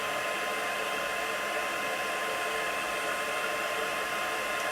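Hair dryer drying white pigment ink sponged onto die-cut paper snowflakes, a steady, loud, continuous whoosh of blowing air with no pauses and no talking.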